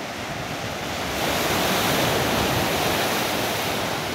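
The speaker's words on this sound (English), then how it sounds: "And look at the beach." Ocean surf breaking at a beach near the Morillo rock in Yabucoa, Puerto Rico, a steady, loud wash of waves that swells slightly after the first second, with some wind buffeting the mic and no voices.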